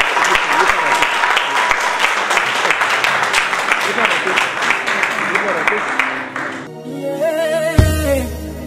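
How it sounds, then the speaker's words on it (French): Guests at a civil wedding break into loud, dense applause that carries for several seconds before tapering off as music and voices take over at the end. "Sous vos applaudissements, s'il vous plaît."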